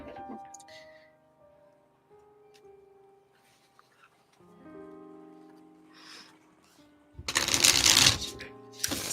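Tarot cards are shuffled in a short, dense burst near the end, after quiet tonal sounds and soft background noises.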